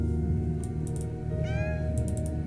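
In the video game Cat Museum, a cat gives a single clear meow over steady background game music.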